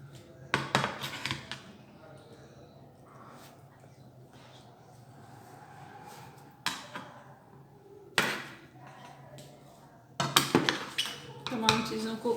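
Fruit chaat being mixed in a bowl, bursts of clinking and scraping of a spoon against the dish separated by quiet pauses, close by with no speech.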